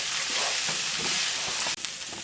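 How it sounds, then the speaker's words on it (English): Garlic and onion sauté in a pan just used for shrimp, giving a loud, dense, continuous sizzle close by with a brief break near the end. "To the same pan, I'm gonna add my garlic and onion. We're gonna saute this"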